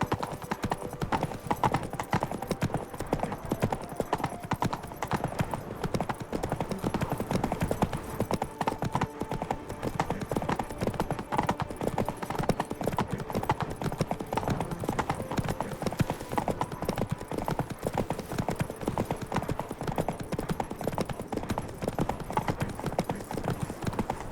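Roach the horse walks in The Witcher 3 with steady, rhythmic clip-clop hoofbeats that continue for the whole stretch, close and moderately loud, with a low ambient backdrop.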